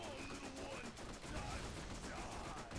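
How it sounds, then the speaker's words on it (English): Rapid SMG gunfire in the PC video game Borderlands, a dense, continuous burst of shots lasting about three seconds at steady loudness, with a voice faintly present underneath. "I'm going to try my new SMG."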